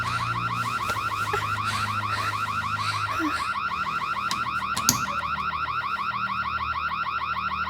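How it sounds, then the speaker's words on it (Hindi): A house security alarm triggered by a laser sensor, a continuous loud electronic warbling tone repeating in a fast steady cycle for the whole stretch, with one brief thump partway through. "लेजर सेंसर गलती से बजा होगा।"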